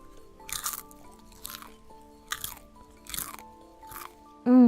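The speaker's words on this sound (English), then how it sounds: "A rainy day in watching movies is nothing without lots of delicious food to munch on." Movie snacks with extra butter being chewed close to the mic, five crisp crunching bites spaced about a second apart, each followed by softer munching, with a brief voiced sound at the end.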